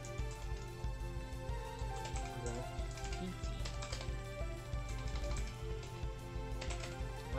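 Rapid keyboard clicking runs steadily over a bed of music, with keys tapped in quick, uneven bursts close to the listener.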